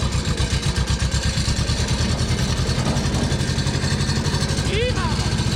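An old 1980s tractor engine idles loudly with a rapid, even low-pitched chugging pulse throughout, close by, with a brief squeak or voice near the end.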